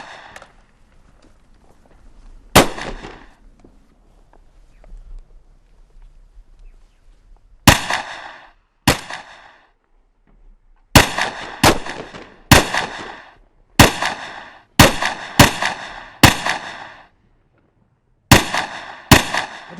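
Rifle shots ring out at a shooting range: about a dozen sharp, loud reports, first widely spaced and then in a quicker irregular series, each with a short echoing tail.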